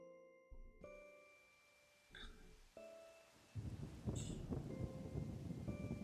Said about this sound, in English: you can hear why I like this alternative rain sound mod, because it sounds so realistic